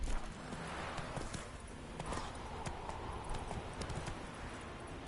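Roach, a horse in The Witcher 3 video game, clip-clops along in a steady, rapid hoof rhythm throughout, fairly close, over a dense layer of in-game ambience.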